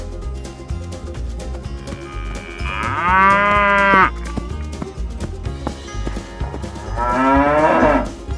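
A cow moos twice, long loud lowing calls separated by a few seconds, set over a continuous bouncy music track.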